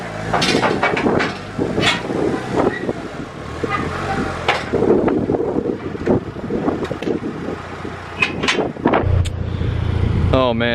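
A Mitsubishi Evo 5 is driven onto a trailer: a steady low engine rumble mixed with gusty wind buffeting on the microphone, continuous throughout with occasional knocks.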